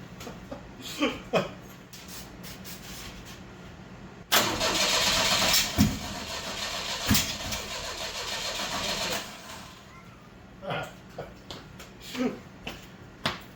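A car engine with its firing order set wrong cranks in short bursts, catches and runs roughly for several seconds, then dies back into more sputtering cranks, loud and close in a garage repair setting.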